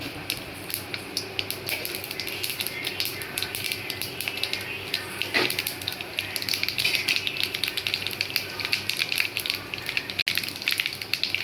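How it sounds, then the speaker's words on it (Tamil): Mustard seeds and cumin fry in hot oil in a pan for a carrot and bean stir-fry, giving a steady, close crackle with scattered pops and spits throughout and no talking. "எண்ணெய் காய்ச்சிட்டு கடுகு போடலாம் சீரகம்"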